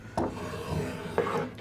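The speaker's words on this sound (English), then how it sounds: "I'm going to start at the top with my round bottom spoke shave. And I'm starting just to ease the corner." A round bottom spokeshave shaving the corner of a wooden tool handle: two short rasping strokes close up, each a quick scrape of blade on wood, with a quieter pass between them.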